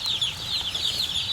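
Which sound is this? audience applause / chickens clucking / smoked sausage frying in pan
chickens clucking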